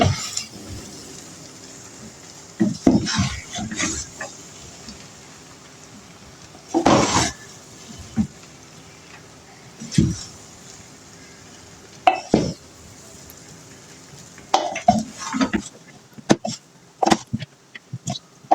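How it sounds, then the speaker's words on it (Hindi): Rice is stirred into vegetables in a pan for chicken fried rice, with a spoon scraping and knocking against the metal in irregular bursts, close by, separated by quiet pauses and with no talking. "चावल मैंने डाल दिए इसमें सब्जियों में। अब हम इसे अच्छी तरह मिक्स कर लेंगे।"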